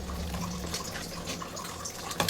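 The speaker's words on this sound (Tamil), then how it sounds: "நல்லா கொதி வந்ததும் புளி கரைச்சி ஊற்றிக்கலாம்" Dissolved tamarind water is poured into a pot of boiling sambar, a steady liquid splash and trickle running the whole time, ending in a louder splash or clatter right at the end.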